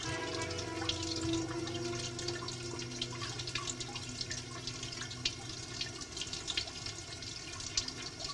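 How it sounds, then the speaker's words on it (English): Water runs steadily over heated EndoFlex orthotic material held in place to cool, a continuous trickling and splashing with light drips, fairly close and without any talk. "Let the water cool the material down while you're holding it in the alignment that you desire"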